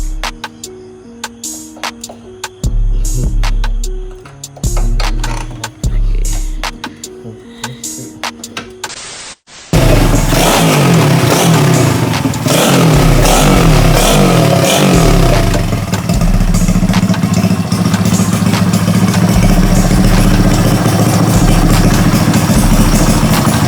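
A modified Wave125 motorcycle engine with a 65 jet: after a quieter opening of scattered intermittent noises, it bursts into life and runs loud and close, with repeated revs rising and falling over a rough idle.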